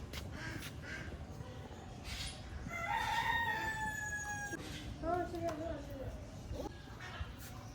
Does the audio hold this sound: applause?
no